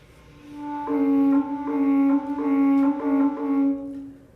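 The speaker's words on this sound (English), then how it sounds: "Now I'll show you an alto clarinet," An alto clarinet plays a short phrase of low, reedy sustained notes, mellow and breathy, alone with no talking; the instrument is in poor condition.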